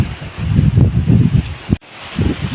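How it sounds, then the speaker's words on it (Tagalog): Gusty wind buffets the microphone in rumbling bursts in a vegetable garden, loud and close, with a brief dropout near the end before the gusts return. "Malakas ang hangin."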